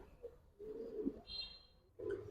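Soft, low coos from green Gola Giribaz pigeons in a couple of short bouts with a brief pause between, close by, over quiet background, with a thin high whistle-like tone midway.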